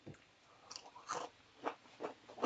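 Crunchy fried imitation-crab Mirelurk cakes bitten and chewed up close: several crisp crunching bites spaced about half a second apart, fairly quiet and alone.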